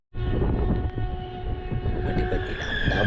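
A Vande Bharat train passes near a metro station, not moving fast: a steady, loud rumble of wheels and carriages fills the whole stretch, with a high tonal whine that rises toward the end.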